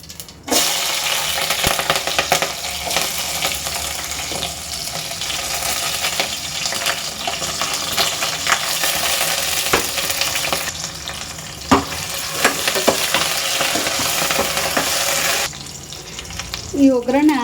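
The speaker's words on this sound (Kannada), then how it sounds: "ಫಸ್ಟ್ ಇವಾಗ ಇದನ್ನು ಒಗ್ಗರಣೆ ಮಾಡ್ಕೊಳ್ಳೋಣ." Garlic and curry leaves tempering in hot oil for a village-style tomato rasam, a steady close sizzle and crackle with a few clinks and a burst of running water, plus a brief voice toward the end.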